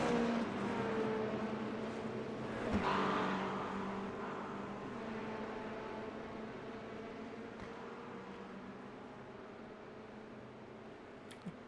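A simulated LMP2 prototype race car in iRacing during an IMSA race, with a GTP car closing from behind: a steady, loud engine drone with a gear change early on, holding a continuous tone throughout.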